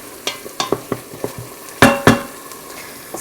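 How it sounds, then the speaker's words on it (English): Onions sautéing in an Instant Pot: a soft, steady sizzle under a series of sharp clicks and scrapes as a utensil stirs against the pot, with two louder knocks partway through. "these onions are getting pretty good"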